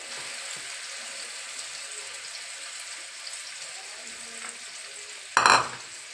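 Fish fries in a pan with a steady, fairly quiet sizzle throughout, near and unbroken, then a sudden brief clatter of utensil or pan near the end.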